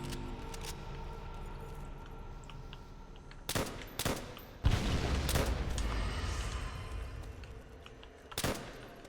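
M1 rifle fire in Call of Duty World at War zombies on the Nacht der Untoten map: a few sharp separate shots over game ambience, one heavier booming blast mid-clip, with no talking.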